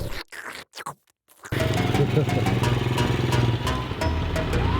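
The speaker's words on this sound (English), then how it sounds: "This guy has like this whole dolly or trailer attached to his bike" A motorcycle towing a dolly trailer hitched at the seat runs with a steady, loud mid-pitched engine drone after a brief stretch of near silence, with street noise and sharp clicks mixed in.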